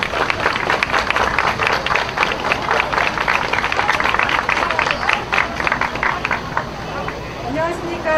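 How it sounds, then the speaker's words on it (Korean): Crowd applause at a large rally of trainee doctors gathered in Yeouido, Seoul: loud, sustained clapping from many hands close by, slowly thinning near the end as a voice begins. "여러분 박수로 맞아주시기 바라겠습니다."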